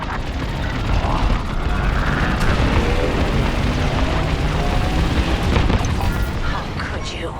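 Transport ships explode in the space combat game Star Wars Squadrons, a dense continuous roar of blasts and rumbling booms, loud and sustained for several seconds.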